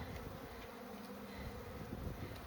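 Honeybees buzzing at an open hive during a spring inspection, a dense steady drone with occasional nearer passes, fairly quiet and continuous with no talking.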